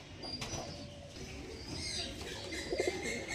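Pigeons coo softly in a short low murmur against a busy outdoor background hum, with faint chirps over it.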